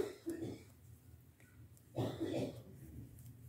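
Two short bursts of coughing or throat clearing, close by, separated by a quiet pause.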